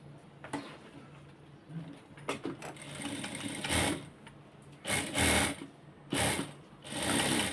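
A sewing machine stitches a chest dart on a blouse in short, loud mechanical bursts. Quieter pauses of soft rattling and handling fall between the runs of stitching.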